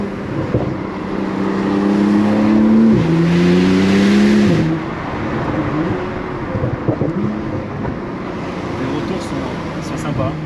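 A Porsche 911 Turbo S fitted with a new exhaust line revs up loudly with rising engine tones, then drops back to a rumbling idle, with people talking over and around it.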